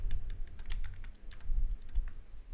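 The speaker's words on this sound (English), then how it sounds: "I can navigate through the whole text using my arrow keys on my keyboard" Keys tapped on a computer keyboard in rapid, uneven bursts of close, light clicks, including arrow keys used to move through text in Google Docs, with a low background hum.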